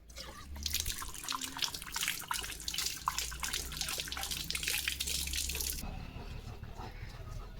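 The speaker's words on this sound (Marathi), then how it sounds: "नळ चालू शिकवलं आहे ना तुला" Tap water gushes in a steady, hissing stream close by, then cuts off abruptly near the end, leaving a quieter background.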